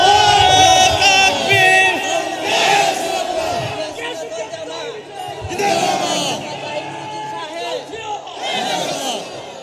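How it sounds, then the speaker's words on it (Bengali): A huge crowd at a religious gathering in Sylhet chants slogans, loud massed voices rising in repeated surging bursts with brief dips between them. "স্লোগান"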